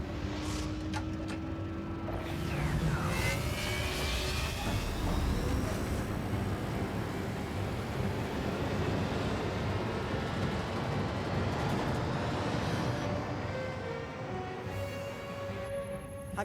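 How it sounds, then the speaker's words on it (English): A sci-fi shuttle lifts off with a loud, sustained roaring rumble and thin rising whines that swell and hold for many seconds, with no voices. "Looks like a shuttle just took off from skill lane 4."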